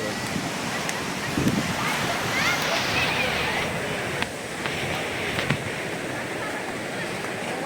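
Sea waves wash onto the beach at Sankarpur in a steady, broad roar of surf with wind noise, continuous and fairly loud throughout, with no clear voices standing out.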